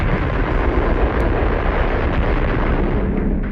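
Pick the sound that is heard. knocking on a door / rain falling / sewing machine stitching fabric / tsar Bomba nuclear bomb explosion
tsar Bomba nuclear bomb explosion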